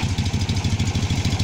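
Polski Fiat 126p two-cylinder air-cooled engine idling, a close, loud, rhythmic low putter with an even lumpy pulse and no other sounds.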